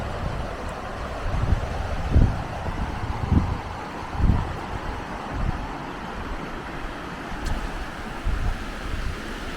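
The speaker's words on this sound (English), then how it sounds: "We got this nice stream." Steady rushing water noise with broadband wash and occasional low thumps, like wind buffeting the microphone; a cold flowing stream heard outdoors by a campground in Zion National Park.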